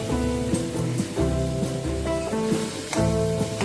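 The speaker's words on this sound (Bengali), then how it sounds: "মশলার সাথে বাঁধাকপিটা কষিয়ে নিচ্ছি।" Cabbage sautéing with spices in hot oil, a steady loud sizzle broken by repeated stirring scrapes and clatters of a utensil against the pan, with no talking.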